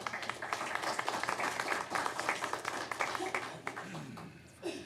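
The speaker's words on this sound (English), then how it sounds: "Not very many times that you get an applause after a tax rate." Applause from the audience at a city council meeting, a dense patter of hands clapping that fades near the end, with voices murmuring underneath.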